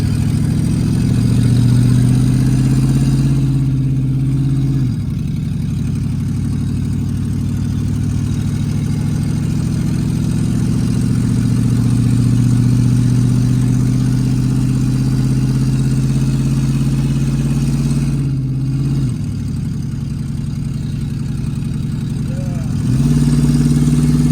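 A Ford F-150 truck engine runs with its exhaust not hooked up, a loud, steady low rumble that swells slightly a few times, with occasional voices over it.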